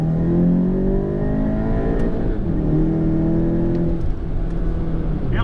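A VW MK7 GTI with a Cobb Stage 3 tune and catless downpipe accelerating, its engine note climbing through gears in loud, continuous rising sweeps heard from inside the car.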